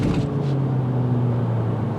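2022 Honda Civic Hatch Sport pulling away from a stop, a loud, close engine drone with a steady low hum that rises slightly in pitch as it gathers speed.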